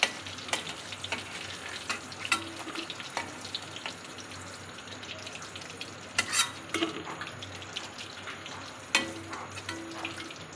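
Pieces of pointed gourd (potol) fry in hot oil, a steady soft sizzle punctuated by sharp pops, spits and a few clinking stirs up close, without any talking.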